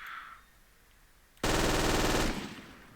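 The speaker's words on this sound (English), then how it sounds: "So it's an MG34, but it fires as fast as an MG42." A burst of very rapid automatic fire from an MG34 machine gun in a video game, cycling at MG42 speed of about 1200 rounds per minute, loud and close for under a second after quiet.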